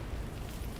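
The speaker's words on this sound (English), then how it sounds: "Two grenades, huh?" Grenade explosions in The Division 2 video game, a single dense low rumbling blast that fills the whole brief moment, loud and continuous with no talk over it.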